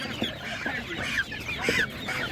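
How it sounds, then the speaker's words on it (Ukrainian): Geese and turkeys honk and call in a busy, moderately distant chorus of short overlapping cries against background chatter at an animal market in Ivano-Frankivsk. "І це є ще гуси, є індики."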